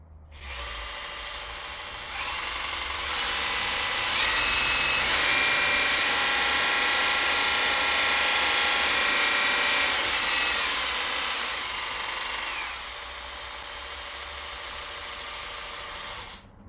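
Bosch jigsaw running with no cut: a steady high motor whine that rises in pitch mid-clip, holds, then winds back down, loud and close with no talk.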